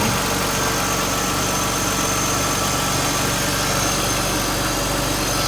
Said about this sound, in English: AC fan, that's spinning fast